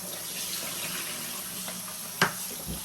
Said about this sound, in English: So after cutting the cassava, you're going to quickly rinse it just to get rid of any dirt.